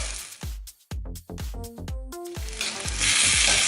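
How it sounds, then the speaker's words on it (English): Cheese steak filling sizzles in a hot pan, with a series of sharp clanks and scrapes from utensils on metal and a hiss that builds loud and steady toward the end. "you do want to sizzle them"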